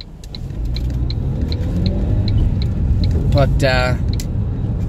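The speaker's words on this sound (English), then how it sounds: "You can hear me changing the gears." A manual car driving on a UK road, with low engine rumble rising and falling as the gears change, heard from inside the car beneath someone talking.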